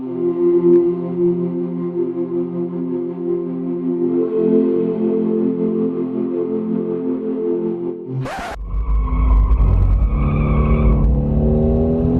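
A Mercedes-AMG GT-R idles with a deep, steady rumble on a race track, then a sharp burst breaks in and the engine surges into loud, hard acceleration with a rising, roaring note.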